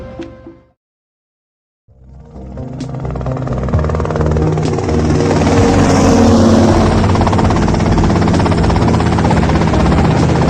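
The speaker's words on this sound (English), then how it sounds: "that's them in the chopper" Helicopter in Grand Theft Auto Vice City, its rotor and engine roar rising after a short silence and holding loud and continuous.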